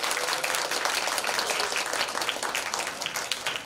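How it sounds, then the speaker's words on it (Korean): Audience applause at an award ceremony for a family volunteer group, with dense, steady clapping from the crowd that holds at an even level throughout, with no talking over it. "나오실 때도 박수 부탁드리겠습니다."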